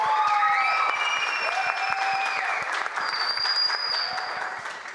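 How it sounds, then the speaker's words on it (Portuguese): A crowd at a Brazilian cannabis industry event claps loudly and steadily, with a few shrill whistles rising over the applause. "Eu peço os aplausos calorosos para essa galera linda."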